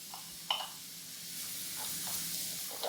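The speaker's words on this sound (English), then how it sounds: "You can hear it sizzling now" Zucchini and vegetables sizzle quietly in oil in a hot pan on medium heat, a soft steady hiss with a few faint clinks and scrapes.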